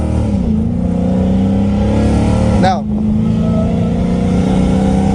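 A Dodge Challenger Hellcat Redeye engine hums steadily with a brief revving shift midway, held to about 4,000 rpm, heard from inside the cabin as people talk over it.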